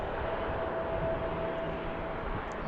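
A Delta Embraer E-175 jet taxiing toward the runway, a steady, loud broadband engine rush with a faint sustained whine, continuous and without talk.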